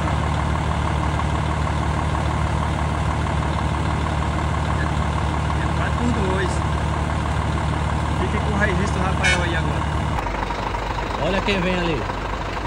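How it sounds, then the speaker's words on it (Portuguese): A diesel Jeep Renegade car engine rumbling steadily close by, with a heavy idling engine drone dropping away partway through as people talk over it. "É o Jeep. É o Renegade."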